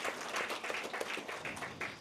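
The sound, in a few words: audience applause at a career fair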